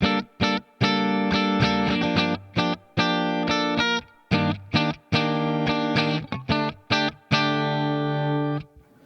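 A clean electric guitar plays bright, ringing notes and chords with short gaps between phrases, a faint wash of reverb trailing behind.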